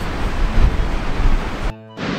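Surf breaking on the beach at Cape Disappointment, a loud, rushing wash of waves mixed with wind buffeting, swelling and easing before a sudden brief drop-out.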